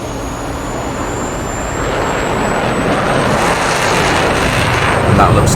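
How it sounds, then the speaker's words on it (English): Jet aircraft departing in DCS World, a loud broadband engine roar that swells and holds steady, with a thin high whine rising across the clip. "That looks like Sword 1 departing for their mission"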